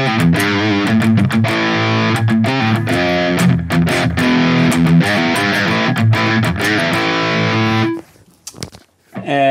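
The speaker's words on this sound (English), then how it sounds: "And then you will get more or less a crunch tone." Electric guitar through a Hotone Ampero modeler with the drive block switched off, giving a crunch tone: loud, steady strummed chords ringing for most of the passage, then cutting out abruptly near the end with a few faint scratchy picks.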